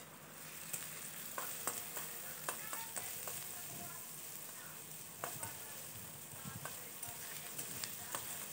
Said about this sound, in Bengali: সেই তেলেই দিয়ে দেবো ছোট ছোট কুচি করে কাটা পেঁয়াজ।